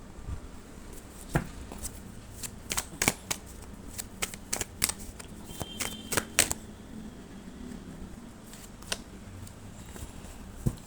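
Tarot cards are shuffled and dealt close by, a quiet background broken by scattered crisp snaps and riffling flicks at an uneven rhythm.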